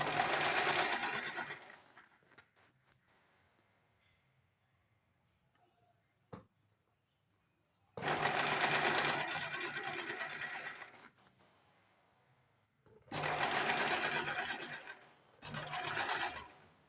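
An electric sewing machine stitches a blouse sleeve in three loud whirring runs of rapid needle clatter, separated by quiet pauses with faint handling clicks and a single sharp tap.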